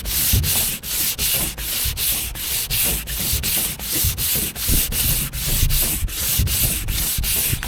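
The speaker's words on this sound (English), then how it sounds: "Sanding the whole hood, and then I'm gonna be painting it." A Jeep hood is being sanded by hand in steady, rapid back-and-forth rubbing strokes, close and loud, with regular brief pauses between passes and no voices.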